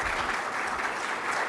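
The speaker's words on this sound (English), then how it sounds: "You got quite an enthusiastic round of applause there." A summit audience applauds enthusiastically after a speech, a dense, even wash of many hands clapping throughout.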